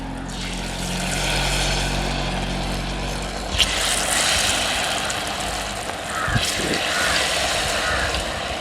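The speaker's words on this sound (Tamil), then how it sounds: "இப்போ எண்ணெய்க்குள்ளே போட்டுருவோம்" A coconut-flower snack is dropped into hot oil and fries with a steady, broad hiss and crackle, loud and close, with a couple of brief sharper bubbling bursts.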